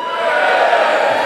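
An audience at a live Get in the Ring event in the Netherlands cheers and roars in a loud, steady wash of crowd noise that fills the whole short moment.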